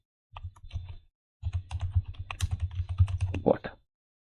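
Python code being typed on a computer keyboard, a rapid close clatter of keystrokes in two bursts separated by a short pause.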